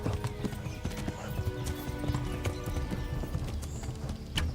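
Horse hooves in Kingdom Come: Deliverance, a steady galloping clip-clop running throughout, close and continuous over busy in-game background sound.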